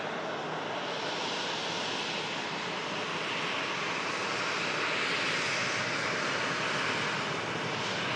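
An Airbus A330 jet at Manchester Airport begins its takeoff roll, a steady broad engine roar heard from a distance, constant and gradually swelling slightly, with no voices.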